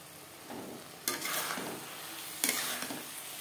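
Spices are stir-fried in a pan for egg curry, a soft, low sizzle with two sharper bursts of spatula scraping about a second apart, quiet and without any talk.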